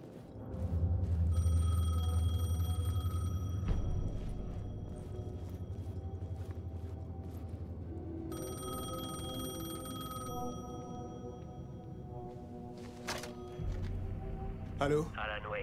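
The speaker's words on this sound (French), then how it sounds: "Le téléphone sonnait." A telephone rings inside the video game Alan Wake 2. Two clear bursts of bright, repeating electronic ringing rise over a low, rumbling game soundscape, one early and one in the middle of the stretch.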